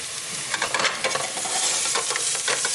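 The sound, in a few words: minced meat frying and being stirred in hot pan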